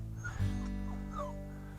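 A puppy whimpers and whines in high, wavering cries over a steady low hum, close by at an off-grid ranch in Arizona.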